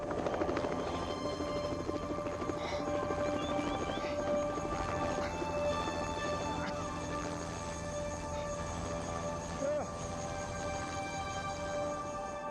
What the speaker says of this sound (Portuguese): De repente, um helicóptero aparece voando à nossa esquerda.